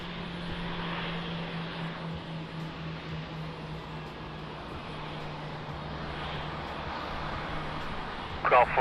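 A jet airliner rumbles steadily at Lisbon Airport on a rainy morning, a low sustained engine roar with broadband wash that stays fairly even throughout, ending in a brief sharper burst near the close.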